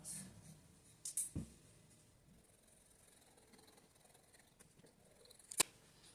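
Scissors make a few quick, faint snips while cutting fabric for a cottage skirt. The snips come in a brief cluster and then as a lone crisp click, with quiet rustling in between.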